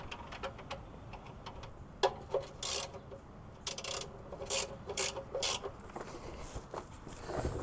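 A ratchet clicks in quick bursts as the oil drain plug is threaded back into a Squarebody truck's oil pan, its sharp metallic ticks coming in uneven runs with short pauses, close up and fairly quiet.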